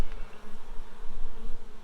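Honeybees buzz loudly and continuously around an open hive during a warm-weather inspection, a dense, close drone of many bees with no talking.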